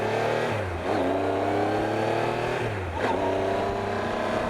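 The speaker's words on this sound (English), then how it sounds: "this engine goes pretty darn quick. As you can tell, the engine is not that noisy" A Triumph Trophy SE touring motorcycle pulls hard while being ridden, its engine note rising through two gear shifts with dips between them, a loud close drone and wind over it.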